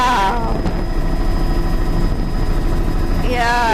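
A helicopter flying over sea arches along a rocky coastline gives a steady, loud rotor and engine drone that fills the whole stretch, with a faint voice at the start and end.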